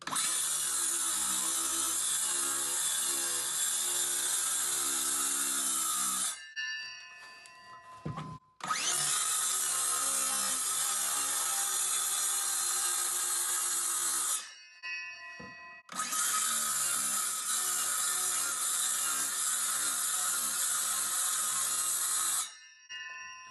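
Oscillating multi-tool saw cutting through a chipboard floor, three long loud buzzing bursts separated by brief pauses, close and harsh.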